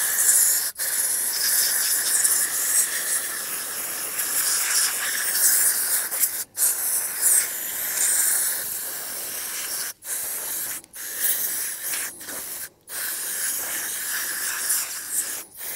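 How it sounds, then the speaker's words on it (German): Compressed air cleaner blasting dirt out of a Krieghoff K-80 Parcours shotgun receiver, a loud steady hiss of spray in long bursts broken by several brief pauses, close and alone. "löse ich ebenfalls wieder mit Kaltentfetter und blase diese mit Druckluftreiniger raus"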